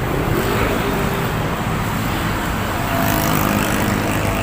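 Steady road traffic along Manila Bay near the Dolomite Beach promenade, with a continuous wash of car and motor noise passing at moderate distance and no voices over it.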